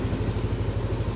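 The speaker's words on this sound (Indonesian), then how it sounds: "Kalau mau setting CO, mesin bisa dihidupkan seperti ini." A motorcycle engine idles steadily after starting, a close, loud, even low-pitched putter with a rapid regular pulse and slight mechanical clatter.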